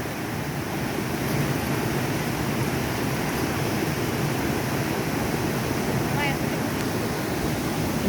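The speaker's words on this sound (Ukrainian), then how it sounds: "Цей водоспад. І багато тут водоспадів класних." A waterfall on a town street pours with a steady, broadband roar that stays constant and fairly loud throughout, with faint background sounds but no clear talking.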